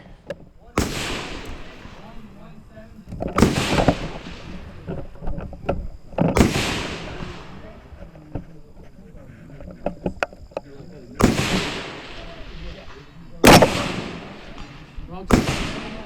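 Cobalt Kinetics rifle shots at an outdoor range, six sharp loud cracks fired at irregular intervals, each followed by a short echoing tail, with quiet talking in the gaps.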